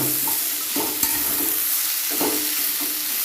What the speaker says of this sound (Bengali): আর একটু ভাজা হোক